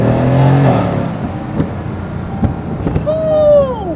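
A Mercedes C63S rebuilt to over 600 hp roars under acceleration, then drops pitch in a loud upshift followed by a rising whine as it pulls again, heard from inside while driving.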